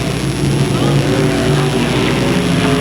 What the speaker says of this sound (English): The car's really getting unwound this evening.